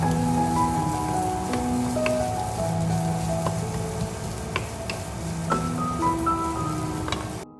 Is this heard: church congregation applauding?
no